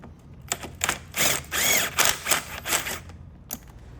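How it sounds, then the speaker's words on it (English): Ratchet with an 8mm socket loosening an intake clamp bolt on a Dodge Challenger during a cold air intake install: a run of quick, crisp mechanical clicks in short bursts, close and fairly loud, no talking. "next we need to loosen this clamp. Bolts right here, takes an 8mm socket"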